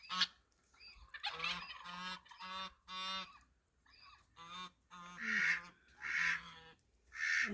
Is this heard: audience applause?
no